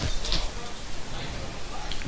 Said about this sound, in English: Oh man, this dog.